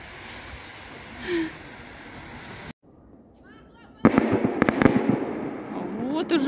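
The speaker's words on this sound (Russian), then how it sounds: "Салют." Fireworks salute for New Year celebrations going off outdoors, a rapid string of sharp crackling bursts and pops after a quieter stretch, with a voice talking over the opening part.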